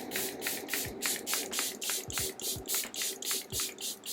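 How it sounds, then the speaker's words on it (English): Charlotte Tilbury Airbrush Flawless Setting Spray misted from a pump bottle in a long series of short, crisp, evenly spaced hissing bursts, close and fairly loud, with no talking. "This is Charlotte Tilbury Airbrush Flawless Setting Spray."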